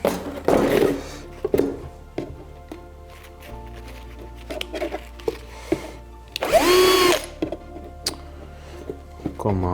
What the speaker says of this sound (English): I think I'm going to drill some little holes first.